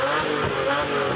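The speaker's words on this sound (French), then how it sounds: "Les gens raffolent de tous ces pop and bang qui résonnent dans tout leur assaut" A loud car engine held on the rev limiter, rough and crackling with rapid popping and banging, continuous throughout.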